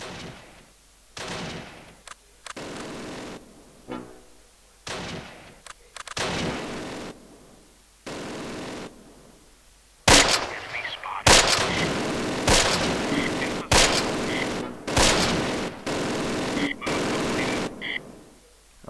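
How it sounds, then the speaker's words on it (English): Heavy gunfire and artillery in the WWII tactical game Close Combat: Last Stand Arnhem, loud repeated blasts and bursts in irregular clusters, some sharp single shots and longer rolling volleys, growing denser and heavier in the second half. "We're under heavy fire."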